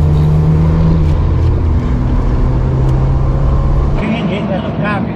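A classic car kept in drivable condition accelerates, its engine note rising in steady pitch steps under continuous road and cabin noise, close and loud, while people talk over it.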